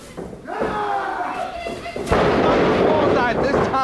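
Pro wrestling match at a VCA Wrestling event: a heavy body slam crashes onto the ring mat with a sharp thud, followed by loud, sustained crowd noise and commentary voices under and after the impact.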